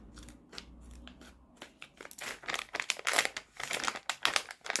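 Scissors snipping and crinkling through plastic packaging of a facial turmeric wax product, a run of irregular sharp cuts and rustles close by, growing busier and louder toward the end.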